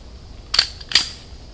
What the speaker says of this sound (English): I'm going to go ahead and clear the weapon.